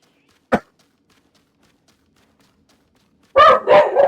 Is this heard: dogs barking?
yes